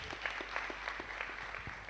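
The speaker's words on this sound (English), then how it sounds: "Please, one more time, let's put our hands together for him." Scattered applause from an audience at an African technology challenge event, individual claps audible at an irregular, moderate pace under a faint steady hum, fairly close and not very loud.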